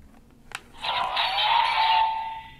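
A DX Ultraman Decker sword toy signals a failed card read: a short click, then a sustained bright electronic tone with a buzzy edge that holds steady for about two seconds before fading, with no talk.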